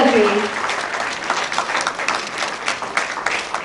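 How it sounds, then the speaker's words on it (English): Seminar audience applauding steadily throughout, a dense wash of clapping that stays fairly loud, with a brief voice at the very start. "Let us keep on the applause for Dr. Najma Heptul."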